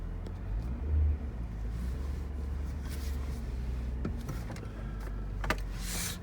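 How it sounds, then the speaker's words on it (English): A Nissan Murano with a freshly replaced cam position sensor runs on a drive, a steady low engine rumble inside the car with faint clicks and rattles from the cabin. "car's running great. Just take it for a quick spin."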